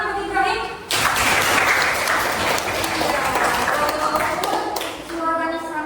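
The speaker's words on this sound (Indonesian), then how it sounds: "Berikan tepuk tangan buat Ibrahim." Classroom of students breaking into lively clapping for a pupil named Ibrahim during an Islamic education teaching practice lesson, a dense burst lasting several seconds, with the teacher talking briefly before and after.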